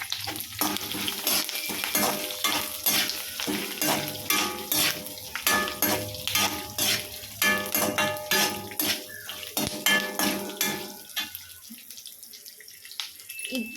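Chana dal frying in a pan with coconut, garlic, ginger, dried chillies and curry leaves, heard as a busy crackle with repeated scraping and clinking of a utensil, plus a steady background tone, the sizzle thinning out toward the end.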